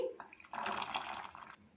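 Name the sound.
water poured into a cooking pan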